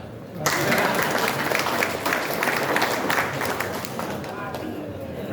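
Audience applause at a gathering addressed by the Kulon Progo regent, a dense sustained wash of clapping that starts abruptly after a brief pause and holds steady, with crowd murmur mixed in.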